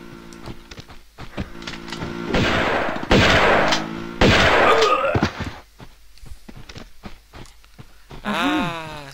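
Rifle gunfire in Tomb Raider 2: sharp scattered shots and a few loud sustained bursts, with impact clatter between them and a rising electronic sweep near the end.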